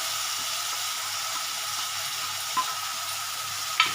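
Potatoes and a ginger, cumin, coriander, turmeric and chili spice paste fry in oil on a lowered gas flame. The sizzle is steady and close, with a couple of brief clinks of stirring.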